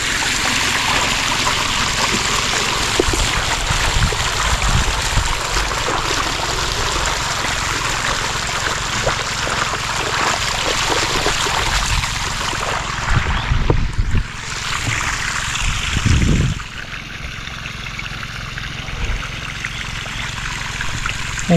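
Water flows steadily and loudly up close for the whole stretch, a constant rushing trickle with a brief louder splash and gurgle near the end, no talk over it.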